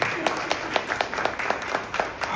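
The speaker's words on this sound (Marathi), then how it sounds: "त्यांच्याही टाळ्या वाजवा" An audience at a felicitation event claps steadily in a regular rhythm, a group of crisp hand claps close by with a faint murmur beneath.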